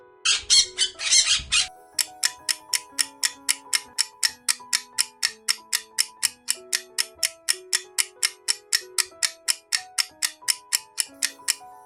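A parrot lets out a burst of harsh squawks, then a long run of evenly spaced, sharp repeated calls follows in a quick, steady rhythm, close and clear against silence.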